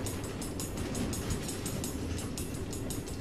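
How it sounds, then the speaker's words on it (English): Minecraft: Story Mode game train running on automated tracks through the Nether, a steady rolling rumble with rapid rhythmic clickety-clack beats throughout, continuous and fairly loud. "Automated train tracks running all through the Nether, connecting all the different order members."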